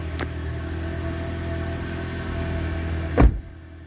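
Toyota RAV4 engine turning over, a steady idle hum under cabin rumble, then a short loud surge near the end as the engine catches, with a brief click early on.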